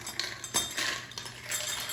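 Cashews rattle and clink into a cup in a few quick pours, close and fairly loud, with no talking.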